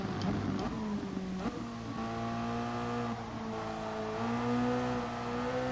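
Toyota race car in a racing video game at the Catalunya circuit, engine pitch dipping under braking then climbing steadily through the gears, close and continuous with a faint tire edge.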